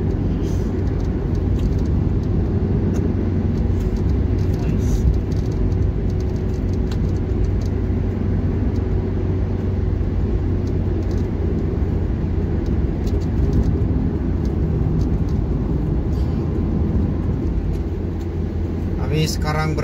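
Car traffic on a near-empty Jakarta city toll road makes a steady, loud road rumble and engine drone heard from inside a moving vehicle, with people talking over it.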